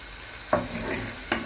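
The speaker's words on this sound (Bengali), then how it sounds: "পরে এখানে অনেকগুলা রসুনের কোষ, পেঁয়াজ, এই যে শুটকি, এগুলো ভাজতেছি।" Garlic cloves, onion and dried fish frying in a pan, a close steady sizzle with two sharp scrapes or knocks of a utensil.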